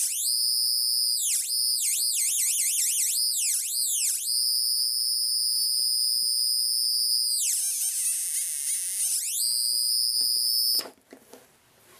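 A homemade light-controlled electronic screamer wails loudly up close, shrill sweeping tones rising and falling in quick warbling cycles, holding a steady piercing pitch, dipping briefly, then resuming before cutting off abruptly into a few soft clicks.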